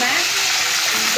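Yogurt-marinated chicken fries in well-heated oil in a karahi for Nepali-style chicken, a dense, loud, continuous sizzle close by.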